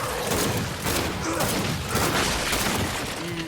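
Gunfire and crashing impacts from online multiplayer combat in the video game Gears 5, a dense, continuous barrage of shots and thuds with faint voices underneath.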